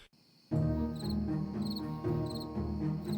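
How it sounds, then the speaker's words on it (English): Crickets chirp at night in rhythmic, repeating pulses, a steady trill that starts abruptly and carries on alone with no voices. "The only sounds were the chirping of crickets and the labored breathing of the lioness."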